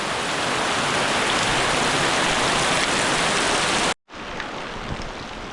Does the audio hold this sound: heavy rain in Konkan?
yes